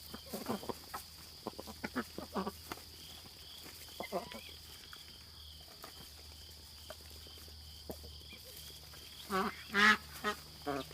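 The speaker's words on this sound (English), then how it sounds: "once the ducks come out, there's always feed left over" Ducks quacking as they come out of their coop on a small farm, scattered nasal calls under quiet ambient hiss with a louder burst of quacks near the end, while people talk.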